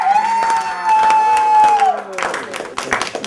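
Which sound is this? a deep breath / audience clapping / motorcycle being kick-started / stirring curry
audience clapping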